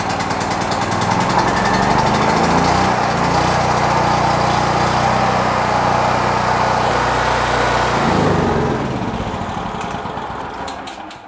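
A portable generator engine runs steadily at close range after a choke start, a loud, continuous mechanical drone with a buzzing rattle that holds for several seconds, then dips in pitch and tapers off near the end.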